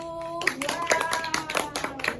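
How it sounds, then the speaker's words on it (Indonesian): A class of students claps for a presenting group in a classroom, a short, moderately quiet patter of hands with a faint tone lingering at the start. "Beri tepuk tangan untuk kelompok 1."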